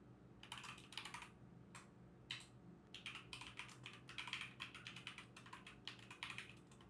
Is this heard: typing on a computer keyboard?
yes